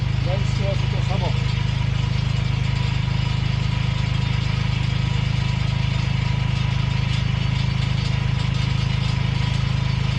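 A tractor engine runs at a steady, close, loud idle for the whole stretch, with a brief rattle just after the start.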